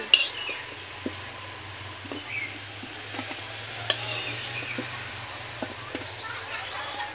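Pieces for a vegetarian fish curry fry in a pan in a village kitchen, a steady low sizzle with occasional clinks and scrapes of a utensil against the pan.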